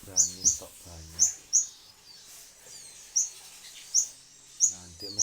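A caged cigun songbird chirps in short, sharp, high tweets repeated at irregular intervals, close and clear, with a voice talking in bursts between the calls.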